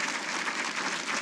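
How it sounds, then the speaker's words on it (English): Audience applause for the class of 2016 DLA Hall of Fame inductees at a ceremony, a brief, steady wash of many hands clapping with no voices over it. "let's give them a round of applause"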